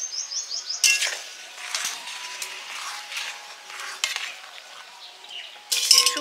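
Metal lid set down onto a cooking pot of boiling potatoes, turmeric and salt in a home kitchen, giving a sharp clank near the start and another near the end, with light scraping and clinking of utensils between, no talk.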